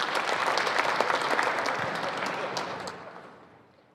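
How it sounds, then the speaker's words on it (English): Banquet crowd at the Lucas Oil Late Model Dirt Series awards event claps in sustained applause that stays dense and loud for several seconds, then begins tapering off toward the end. "Let's give Aaron a big round of applause and Penske Shocks."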